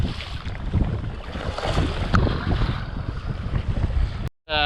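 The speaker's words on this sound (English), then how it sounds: "Survived the brutal headwind." Strong wind blasts across the microphone during a sea kayak crossing near Wardang Island, with water sloshing in a steady roaring rush that breaks off abruptly at the end.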